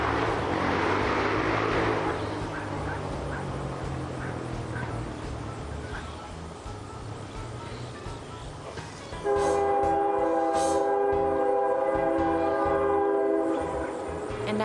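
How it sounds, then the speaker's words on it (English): A train passes nearby with a continuous heavy rumble and clatter of rail cars, then a loud, sustained horn blast joins in for the last several seconds. "now the train is going by"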